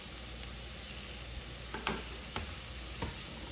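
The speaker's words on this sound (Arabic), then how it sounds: "خلونا ننزل الثوم وشوي من الفلفل الحار" Garlic and hot chili pepper hitting a pan of browned onions for a quick pasta sauce, a loud, dense sizzle with a few sharp spatula stirs, no voices.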